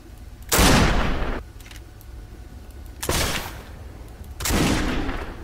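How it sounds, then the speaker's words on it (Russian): Gunshots in the video game Risen 2: Dark Waters: three loud, separate blasts, each with a booming tail that fades over about a second. "давайте этот трюк повторим с тремя выстрелами"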